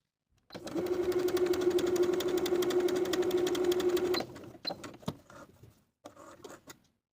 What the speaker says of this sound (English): I'll sew basting stitches from the top to the bottom of the line